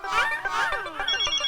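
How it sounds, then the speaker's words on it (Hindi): A mobile phone rings with an incoming call from the boss, a bright, warbling melodic ringtone that plays loudly and continuously, close by, with faint speech mixed beneath it. "तब तक वो रिंग बजाता रहेगा"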